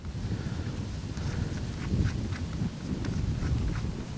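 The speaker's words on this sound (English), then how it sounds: "This wind blowing probably doesn't help a whole lot." Gusty wind buffeting the microphone outdoors at a shooting range, a constant low rumble that swells and eases, with faint scuffs underneath.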